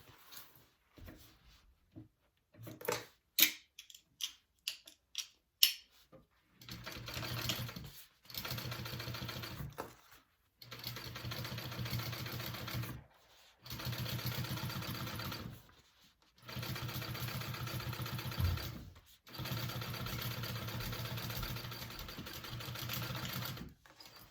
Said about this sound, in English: we are going to top stitch along our base